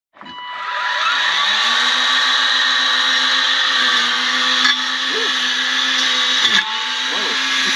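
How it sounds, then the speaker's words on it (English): A small motor whines loudly and continuously at a steady pitch, with a couple of brief dips and catches, close by and without speech. "It's like a lawnmower on a stick."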